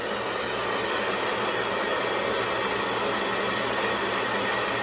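A hair dryer blows steadily and loudly at close range while hair is dried upside down, a continuous whooshing roar with no talk over it.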